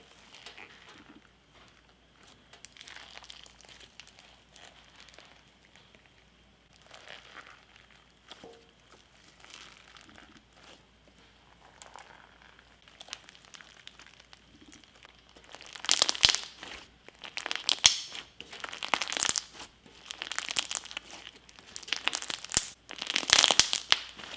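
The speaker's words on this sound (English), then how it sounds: "you get really amazing crunches from all the foam beads that are in it" Foam-bead slime squished and crunched by hand, quiet and crinkly at first, then a run of loud, close, crackling crunches in the second half.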